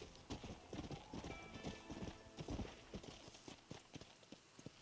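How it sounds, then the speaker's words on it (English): Horse hooves clip-clopping at a steady trot while riding in the Red Dead Redemption game, a continuous rhythmic patter of hoofbeats, fairly quiet, with no talk. "Once the horse is broken, you can go ahead and jump over the fence or the gate or whatever and ride it over to the barn here."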